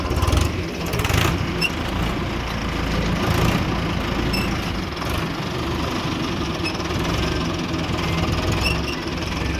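Tractor running with a 7×7 harrow hitched, its diesel engine knocking in a loud, steady, close chug that holds throughout, with no one talking.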